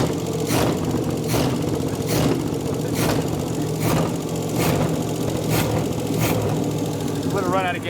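A V8 in a 1957 Chevrolet, restarted after more than 40 years, idles close and loud with rhythmic ticking pulses, while people talk over it.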